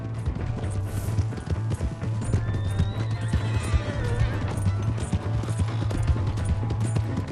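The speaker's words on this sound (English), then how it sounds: "Hey, that's my horse!" Horse hooves gallop in a steady, close clip-clop in the video game Red Dead Redemption 2, with loud whinnies and neighs rising over the hoofbeats throughout.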